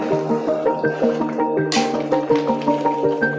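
Egusi (melon) soup mixture tipped into a cooking pot, with wet, liquid sloshing and dripping sounds and small clinks, heard up close and steady, with no talk.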